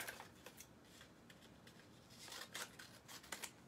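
Scissors cut through fabric with soft, quiet snips and rustling strokes, several short cuts in a row close by, with no talking.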